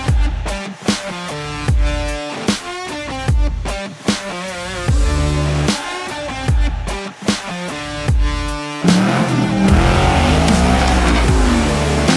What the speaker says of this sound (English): me trying to move cars for a shop